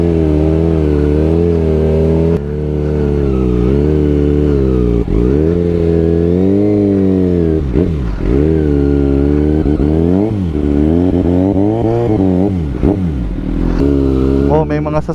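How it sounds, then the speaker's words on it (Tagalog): Passing vehicles by Lake Mapanuepe in San Marcelino, Zambales, with loud nearby engines revving and rising and falling in pitch over several passes, mixed with voices. "Oh, may mga sasakyan, no?"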